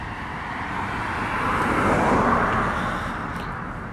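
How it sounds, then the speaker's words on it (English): Cars pass along a road on a quiet morning, one broad whoosh swelling to a peak midway and fading again over steady road noise, with no talking. "A few cars zipping by here and there"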